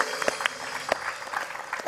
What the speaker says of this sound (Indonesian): tepuk tangan dulu. Ayo.